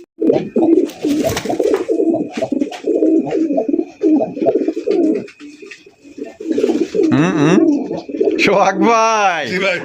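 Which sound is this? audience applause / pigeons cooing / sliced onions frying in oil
pigeons cooing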